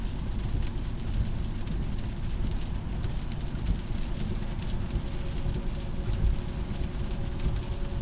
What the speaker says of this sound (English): God, this big old fat rain.